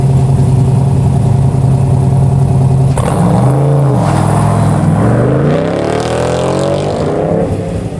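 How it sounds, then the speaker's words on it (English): A black Corvette races across an autocross finish line in Scottsdale, Arizona. Its loud engine hums steadily, then roars past close by with a sharp pitch drop and a rising rev as it pulls away. "He comes across that finish line, that black Corvette."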